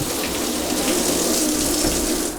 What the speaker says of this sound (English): That's good water pressure.